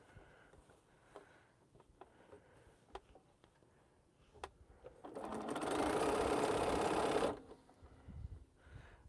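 Sewing machine stitching a quilt's quarter-square triangle, starting after soft handling noises with a steady, close whirring run of about two seconds that then stops, no talk.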